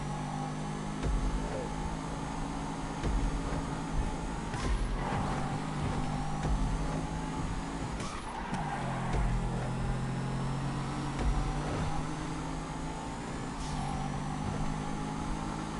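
Two GTA 5 cars, a Masaka and a Seven 70, race with steady, fairly faint engine drone throughout, and the pitch shifts now and then as they accelerate and change gear.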